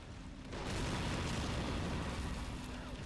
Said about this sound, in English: I think he had obviously must have TNT, and that's why that big explosion happened